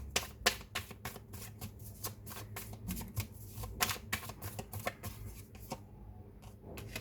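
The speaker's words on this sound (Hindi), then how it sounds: "बट हम शफल करेंगे अच्छे से" Tarot cards are shuffled by hand in a run of quick, crisp riffles and flicks, close and fairly quiet, with brief pauses between bursts and no speech.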